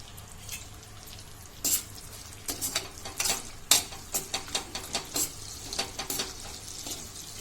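Bay leaves, cinnamon pieces, star anise, cardamom and a chili fry in hot oil for veg Kolhapuri, giving a soft sizzle under a quick run of spoon clicks and scrapes against the pan.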